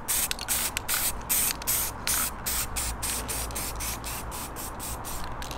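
Spray gun coating a car bumper grill, a loud continuous hiss broken by rapid rhythmic gaps as the trigger is pulsed, close and unaccompanied by talk.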